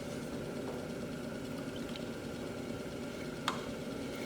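A pottery wheel spins while clay is centered, making a steady low motor hum with a soft rubbing whir and one brief faint click.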